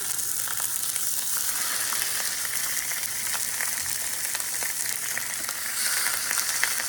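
Boneless pork shoulder roast browning in a hot pan gives a steady, close sizzle and crackle that runs unbroken throughout, with faint scattered pops and no voices.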